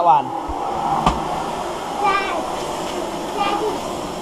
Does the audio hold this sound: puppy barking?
no